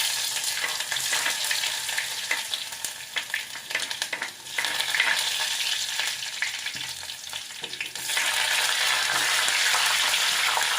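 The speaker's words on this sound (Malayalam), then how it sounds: "നമ്മൾ ഇഞ്ചിയും പച്ചമുളകും ഇട്ടിട്ടാണ് ഒന്ന് മൂപ്പിച്ചെടുക്കുകയാണ്." Ginger and green chillies fry in coconut oil with popped mustard seeds, producing a loud, continuous close sizzle broken by stirring scrapes, then swelling to a fuller hiss near the end.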